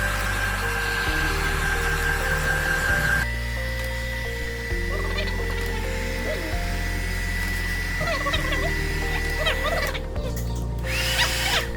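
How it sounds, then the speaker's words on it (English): A hair dryer blows on wet paper during an invisible ink experiment, giving a continuous whirring drone with a steady pitch that holds for the whole stretch, with a brief shift partway through. "Use the dryer and dry the wet paper."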